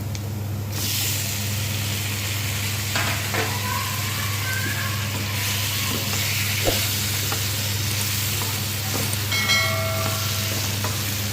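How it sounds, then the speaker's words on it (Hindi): Spices, garlic and onion sizzle steadily in a pan for pizza sauce as tomatoes go in, a constant close frying hiss with faint stirring scrapes and a brief clink near the end, no talk. "अच्छी तरह स्टर करेंगे स्पाइसेस को लहसुन और प्याज के साथ। और फिर फ़ौरन हम इसमें ऐड करेंगे टमाटर।"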